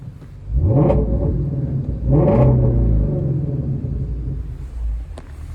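A 2019 Shelby GT350 with its exhaust set to sport mode growls loudly up close, with two strong revving surges before it settles into a deep, rumbling idle.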